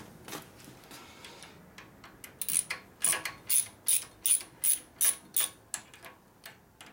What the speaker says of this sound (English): Speed wrenches.